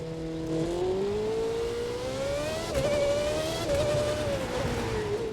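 A racing car engine in the video game The Crew 2 whines with a rising and shifting pitch as it accelerates through gears, steady and prominent with no talking.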